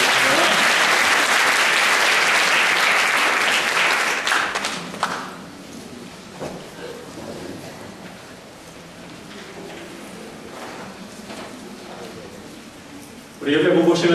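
A church congregation at a Sunday service bursts into loud, dense applause for about five seconds, which then fades to scattered claps and quiet murmuring before a voice resumes speaking.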